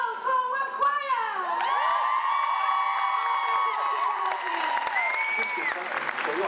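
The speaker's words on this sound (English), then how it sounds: "A big round of applause for our choir!" An audience at a Disney stage show applauds and cheers for a choir, with lively clapping and whoops sitting under loud sustained music and voices that carry through the whole stretch.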